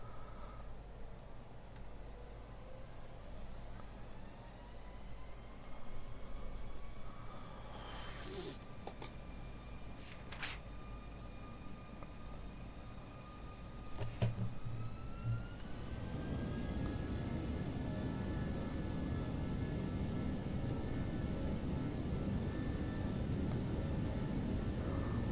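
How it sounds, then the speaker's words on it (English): An Airbus A319 in the Prepar3D flight simulator winds up for its takeoff run at max thrust, a steady engine whine and hum that swells into a louder broadband roar partway through, with faint cockpit talk. "let's begin our takeoff run"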